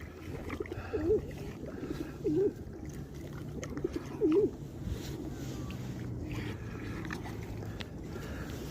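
Pigeons cooing in a few short, soft bursts against a steady outdoor background of water and murmuring ambience by the Vistula river in Kraków, with swans nearby.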